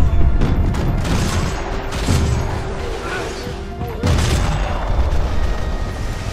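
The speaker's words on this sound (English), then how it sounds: "Firefights are intense at normal speed and bullet time." Gunfire in a firefight from the video game Max Payne 3, with dense, loud bursts and booms over continuous heavy action noise and no clear pauses.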